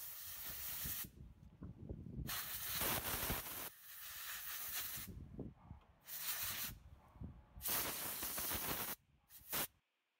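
Compressed air is blown in several loud hissing bursts, separated by short pauses, to clean a car's distributor cap and rotor.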